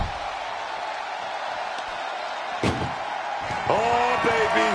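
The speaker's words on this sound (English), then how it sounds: "They slammed the door." In the WWE 2K26 video game, an ambulance door slams with one sharp thud midway, set against a steady crowd roar while a commentator talks.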